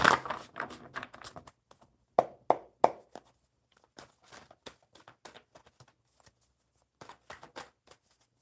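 Tarot cards are shuffled in irregular bursts of soft, papery flicks and taps, close and quiet, with brief pauses between handfuls.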